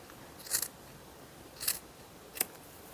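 Scissors snip through leftover crochet yarn ends on a beanie, three crisp, separate cuts close by in a quiet room.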